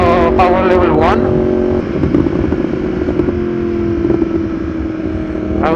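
A Yamaha R1 motorcycle is ridden in one of its ride modes, its engine a loud, continuous drone with a rising rev at the start, then settling into a steady hum under wind rush.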